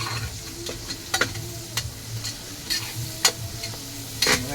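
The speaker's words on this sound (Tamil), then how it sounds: "நல்லா வதக்கணும்." Tomato rice with biryani powder sautés in a pan with a constant sizzle, while a utensil scrapes and taps against the pan in irregular clicks at close range.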